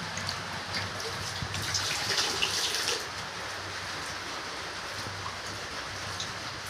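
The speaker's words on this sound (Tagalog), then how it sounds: "Maligam-gam na tubig para hindi siya malamigan" Warm water runs steadily from a tap to bathe a four-month-old liver-line Shih Tzu puppy, a close, continuous splashing patter that grows slightly louder for a few seconds early on before settling.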